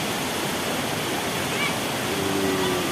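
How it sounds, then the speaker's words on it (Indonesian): Steady roaring rush of the Telunjuk Raung waterfall in Banyuwangi, loud and continuous with no pauses, filling the whole moment. "Pesona air terjun Telunjuk Raung guys."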